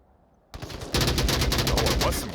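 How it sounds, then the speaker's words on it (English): Rapid automatic gunfire in the VR shooter Onward during a competitive match, bursts of close shots starting after a brief quiet lead-in, then dense continuous rattling fire. "What a great bit of shooting there"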